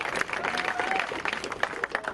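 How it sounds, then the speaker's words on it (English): Crowd applause and cheering at an outdoor street protest demanding racial justice in the U.S., a dense, steady wash of clapping lasting a couple of seconds with voices mixed in. "Let's give a round of applause for them, because they deserve justice."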